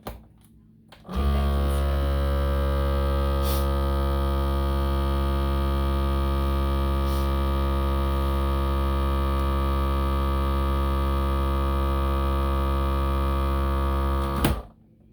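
A home vacuum sealer runs with a loud, steady electric drone holding one unchanging tone for about thirteen seconds before it stops abruptly.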